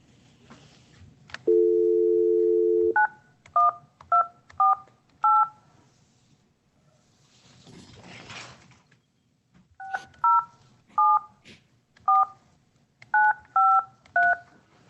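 A telephone number is dialed on a keypad: a short steady dial tone, then a quick run of distinct touch-tone beeps, a pause with faint rustling, and a second rapid series of beeps.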